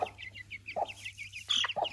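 Chickens with a young cockerel cluck briefly, giving short chirpy calls in quick succession and a couple of louder, lower clucks close by.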